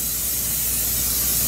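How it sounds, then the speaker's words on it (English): Cooking oil sprays from a can onto meatball hero sandwiches, a continuous close hissing burst lasting the whole moment, with no talk. "what I'm gonna do is also spray the top because I want it to have that"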